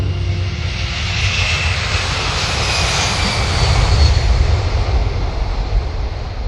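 Blackbird military jet aircraft flying, a steady, loud roaring rumble with broad hiss that swells slightly toward the middle and holds on, no voices.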